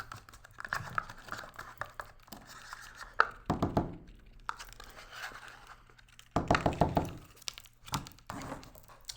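A pudding cup is peeled open and its contents dumped into a bowl for a dirt dessert. Close crinkles, thuds and scraping plastic handling come in irregular bursts, with no talking.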